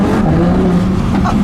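A Lamborghini Huracán LP610-4 in sport mode idles and revs briefly on a Stockholm street, giving a loud, close, rough engine rumble that stays fairly steady for about a second and a half.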